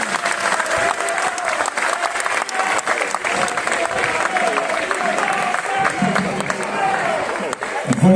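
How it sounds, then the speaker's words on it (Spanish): An audience at a conference on social reforms applauds loudly and continuously for about eight seconds, a dense wash of many hands clapping up close, with some voices mixed in. "Un fuerte aplauso"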